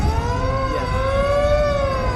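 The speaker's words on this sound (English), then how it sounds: "You hear the sirens in the background" A steady drawbridge warning siren wails in the distance before the bridge is raised, slowly shifting pitch over a constant low boat rumble.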